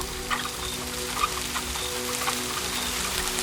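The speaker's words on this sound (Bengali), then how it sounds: "হঠাৎ করে অদ্ভুতভাবে বৃষ্টি পড়তে শুরু করলো।" Steady rain falling as a background effect in a village ghost story, an even patter with faint clucking of chickens mixed in.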